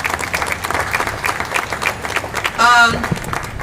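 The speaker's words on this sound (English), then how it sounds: "Give him a huge round of applause, please, for all of his work." Steady applause from a crowd, with rapid overlapping claps and a voice cutting in briefly near the end.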